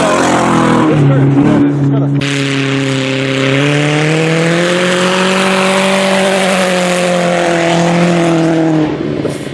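Car engines revving hard during an amateur race between a Passat and a Focus, a loud near whine that climbs and holds in pitch for several seconds, with a sudden onset after a brief rougher start.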